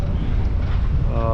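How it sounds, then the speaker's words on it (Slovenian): Strong wind gusts buffet the microphone on a sailboat at anchor near Uligan in the Maldives, a loud continuous low roar and rumble with a faint tonal hum toward the end. "Pač pa ful piha."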